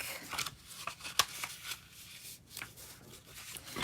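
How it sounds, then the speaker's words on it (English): Cardstock flaps being folded in and creased back with a bone folder on a double fold honey bee card, giving soft papery rustles and crisp scraping swipes at close range, with one sharper snap partway through. "now I'm going to fold these ones in and then fold it back"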